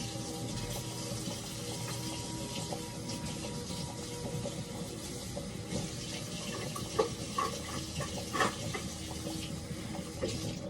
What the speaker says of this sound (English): I'm gonna rinse my knife